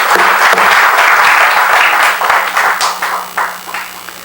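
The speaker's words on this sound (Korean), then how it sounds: "박수로 통과할까요?" Assembly members clap to approve a budget and dues at the founding general meeting of a Seoul democracy civic group, a loud sustained burst of applause that gradually thins and fades with scattered last claps.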